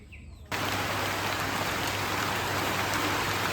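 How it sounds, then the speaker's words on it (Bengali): Steady rain begins in a rural village, a dense even hiss of drops on surfaces starting abruptly after a short quiet moment and continuing loud and close without pause. "বৃষ্টি শুরু হয়ে গেল, রিমঝিম বৃষ্টি।"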